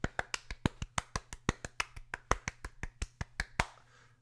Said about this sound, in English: I clapped in a circle to be a round of applause.